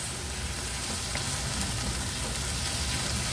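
Chicken sotanghon guisado sizzles steadily in a pan, a continuous close, even frying hiss with faint stirring scrapes throughout and no voices.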